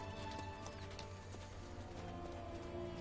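Horse hooves clip-clop steadily in The Witcher 3 as a mount moves through the green Duchy of Toussaint, a continuous rhythmic trot heard alone over a dense game ambience.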